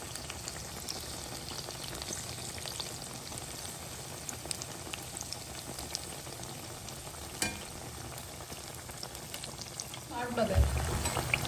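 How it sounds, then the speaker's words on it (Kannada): Something being deep-fried in hot oil, a dense steady crackling sizzle throughout, with a brief clatter and a louder burst near the end. "ಇವಾಗ ಎಣ್ಣೆ ಕೂಡ ಕಾದಿದೆ ಇವಾಗ ಎಣ್ಣೆಯಲ್ಲಿ ಅದನ್ನು ಕರ್ಕೊಳ್ಳೋಣ"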